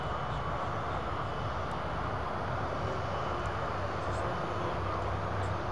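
A Prime Boeing 737 freighter jet gives off a steady, broadband engine roar at moderate distance, constant throughout with little change.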